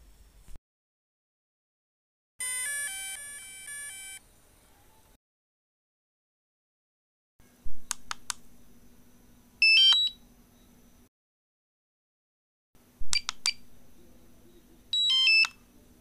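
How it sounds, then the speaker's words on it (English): Several electronic notification tones from a DJI Mini SE drone separated by silence: a harmonic chime, then paired beep sequences with short chirps over a low steady hum, repeated twice. "sounds that the DJI Mini SE makes while you're flying it, while you're launching it, and as an indicator or a notification"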